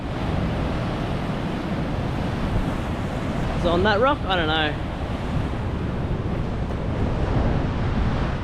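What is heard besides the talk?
ocean waves breaking at Noosa Heads, Queensland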